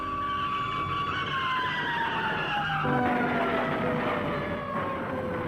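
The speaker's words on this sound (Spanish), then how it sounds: "Discutían mientras él conducía y en una curva chocó con otro auto." A car skids, its tyres letting out a loud, sustained, wavering screech that slides downward in pitch and shifts abruptly partway through, against a steady rumble.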